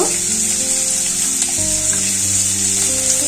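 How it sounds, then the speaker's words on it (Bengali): Chopped onion and green chili frying in oil, a loud, dense, steady sizzle close up with faint stirring clicks and a low hum underneath. "পেঁয়াজটা হালকা করে একটু ভেজে নেব।"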